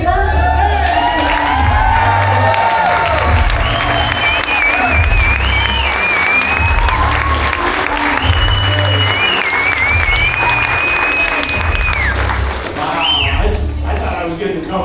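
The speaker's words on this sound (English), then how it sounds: "I'm going to ask for a standing O." A conference audience gives a standing ovation, with sustained loud applause, cheering and whoops filling the room throughout, and a few shouted voices over the clapping.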